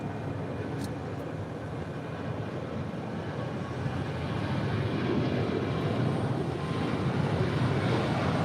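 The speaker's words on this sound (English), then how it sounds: "We do have Korean Air Cargo flight 8210 heading to Tokyo Narita. It's 747-400 ER." A Korean Air Cargo Boeing 747-400ER jet at LAX makes a low, steady engine rumble that swells gradually louder toward the end, heard without talk.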